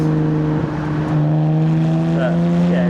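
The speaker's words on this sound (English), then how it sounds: "Hear the engine, mate. Hear it purr." A BMW 125i with an N52 engine cruising on a cold morning drive, a loud, steady droning hum rising slightly in pitch as it pulls, heard from inside the cabin.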